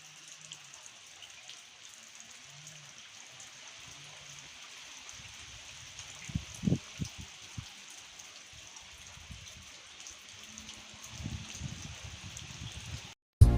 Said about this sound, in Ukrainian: Осінь похолодало, дощ іде